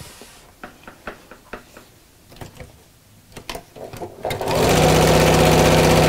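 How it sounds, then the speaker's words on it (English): A sewing machine stitches around the top curve of a fabric coat hanger zipped cover, starting with a few short knocking bursts and then settling into a loud, steady continuous whir close by. "I'm just going to sew around that top curve"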